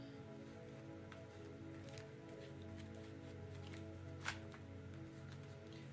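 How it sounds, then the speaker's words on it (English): Tarot cards are riffled and slid together in soft, quiet shuffling strokes, close by, with a low hum underneath and one brief tap. "Just have to straighten my cards out. I started shuffling them into each other here."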